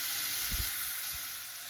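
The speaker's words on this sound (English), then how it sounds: "my vegetable oil to fry the potatoes. So that's already heating." Steady, close sizzling of potatoes frying in hot vegetable oil, a continuous hiss with a couple of soft low thumps.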